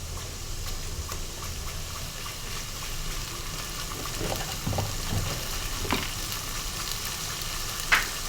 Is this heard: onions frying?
yes